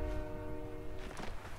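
A train horn sounds in the Fortnite video game, one sustained, fairly faint blast with no one speaking over it.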